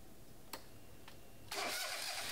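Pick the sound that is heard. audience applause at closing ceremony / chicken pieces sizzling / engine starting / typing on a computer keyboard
engine starting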